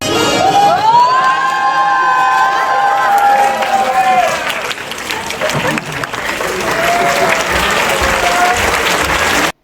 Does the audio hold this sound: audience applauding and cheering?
yes